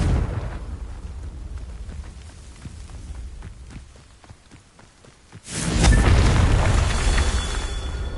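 Confringo fire-blast spell from Hogwarts Legacy, a low rumbling blast followed by a sudden loud fiery roar that swells and sustains to the end.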